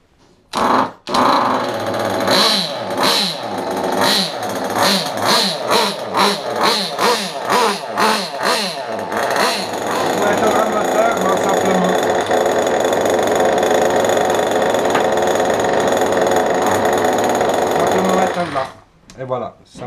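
Kyosho Inferno Neo nitro RC car engine revs in short rhythmic bursts, then holds a steady loud buzzing whine for several seconds before cutting off, close up.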